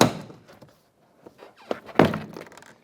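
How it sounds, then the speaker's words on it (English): Plastic push pins pop loose as a door panel is pulled off a 2008-2013 Nissan Rogue front door, giving a sharp thunk at the start, then a few scattered snaps and a louder cluster of pops near the end. "we're disconnecting the plastic push pins that are securing the panel to the door shell."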